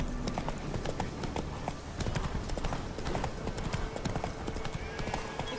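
Horse hooves clip-clop in a steady rhythmic trot in The Witcher 3 video game, close and clear, with occasional soft horse snorts and ambient game sounds underneath.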